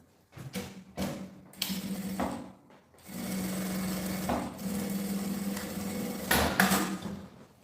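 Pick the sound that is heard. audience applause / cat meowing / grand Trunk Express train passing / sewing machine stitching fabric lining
sewing machine stitching fabric lining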